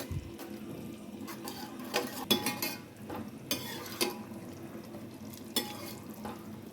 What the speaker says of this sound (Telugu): పెరుగు వేసి బాగా కలుపుకోవాలి